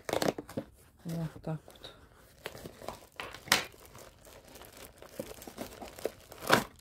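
Taped parcel package being torn open by hand, with irregular bursts of crinkling and ripping plastic close up, mixed with soft speech.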